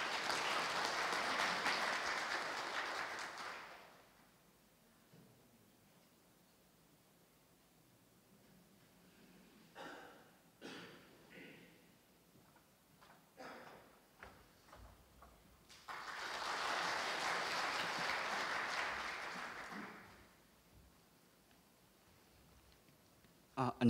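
A morning lecture audience in Incheon applauds to welcome a military affairs journalist; two full bursts of crowd clapping, one opening and one later, separated by a quieter stretch of scattered clicks and shuffling.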